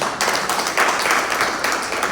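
An audience in a Lucknow hall claps together for a man called up from the crowd, a steady dense patter of many hands held fairly close for the whole stretch with no voices over it.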